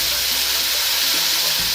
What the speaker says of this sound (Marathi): ते एखादी पळी पाणी आपण याला बाजूने अशी सोडायची आहे